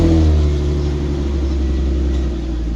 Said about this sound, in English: have him start the car up while you monitor the exhaust at the back of the car